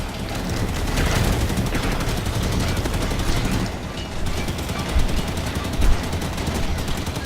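Sustained gunfire from enemy soldier captains and their turrets in the game Halo 5: Guardians, a loud continuous rattle of automatic fire running throughout with occasional heavier impacts near the end.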